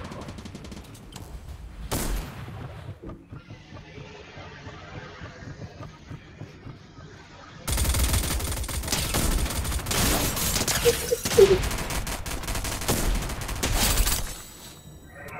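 Video game gunfire in Fortnite, Chapter 3 Season 2: a rapid fusillade of shots breaking out loudly in the second half after quieter ambient play, with several sharp bursts and a brief loud hit early on.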